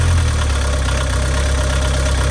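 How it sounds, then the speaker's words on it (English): A Volkswagen Vanagon Doka van engine idles loudly up close with a rough, rhythmic knocking and rattle from a loose exhaust, steady throughout with no voices. "I think that's exhaust looseness or something that's knocking"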